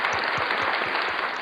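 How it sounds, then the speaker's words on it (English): An audience at a men's night event claps in a brief, steady round of applause, a dense close patter of hands with no talking over it. "So I'm gonna give y'all a round of applause."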